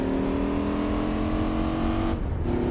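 A muscle car's engine in Gran Turismo 4 holds a deep, steady growl at sustained revs, loud and close, then briefly dips before settling back to the same droning pitch.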